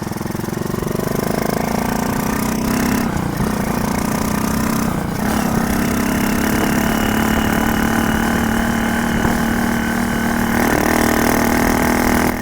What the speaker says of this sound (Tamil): இப்போ வந்து நம்ம வண்டி எவ்வளோ ஸ்பீடு போகுது அப்படிங்கிறத ஓரளவு இந்த டெஸ்ட் வந்து பண்ணிடுவோம்